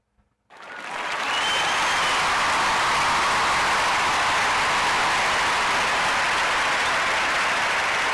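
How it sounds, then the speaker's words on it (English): Sustained applause from a studio audience swells in quickly after a brief silence and holds steady and loud for several seconds, with no one speaking over it. "We're going to give our special guests a round of applause"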